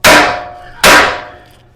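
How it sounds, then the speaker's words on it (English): Two sharp, loud metallic hammer blows about a second apart on the tapered ball joint of a 2021 Chevrolet Silverado steering knuckle, each ringing briefly before fading, with no talk. "What I normally do is strike this with a hammer right here, because this is on a taper"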